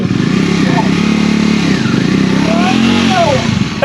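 A motorcycle engine revs loudly and steadily up close as the bike is pulled free from mud, pitch rising and falling as the throttle is worked, with voices talking over it.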